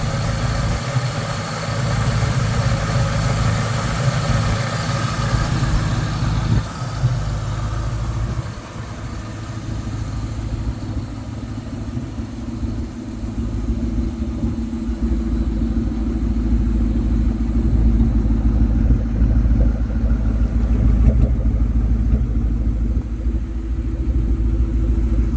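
A 2003 Ford Mustang Cobra Terminator with 85,000 miles idles nearby with a deep, loud, lumpy rumble, briefly revving and settling, then holding a steady heavy drone throughout.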